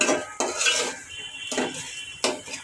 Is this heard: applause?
no